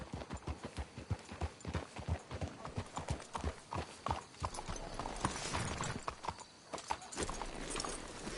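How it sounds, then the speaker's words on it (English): Horse hooves clip-clop in a steady walking rhythm through Red Dead Redemption 2, close and fairly loud, with a brief neigh late on and no talking. "Let's hitch our horses up ahead."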